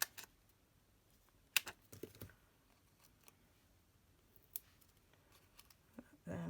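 Scissors snip card paper while a new baby birthday card is made, giving a handful of faint, sharp, close cuts spaced irregularly over quiet room tone with no talking.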